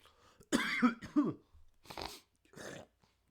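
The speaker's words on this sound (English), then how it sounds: "I'm coughing" Someone coughs several times in quick, harsh bursts, followed by a couple of weaker coughs after a short pause.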